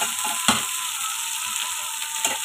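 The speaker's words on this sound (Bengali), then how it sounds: "তো এটাকে দিয়ে খুব সুন্দর করে আমি একটু ফ্রাই করে নিব" Shrimp sizzle and fry in an oiled pan for taro-leaf greens, a steady close crackling hiss with a few scraping stirs of a spatula breaking through.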